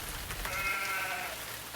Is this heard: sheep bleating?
yes